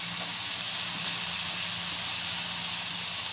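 Green bell pepper hits a hot frying pan during a cooking session for Alexandrian-style liver, giving a steady, bright sizzle and hiss that holds evenly throughout with no talking.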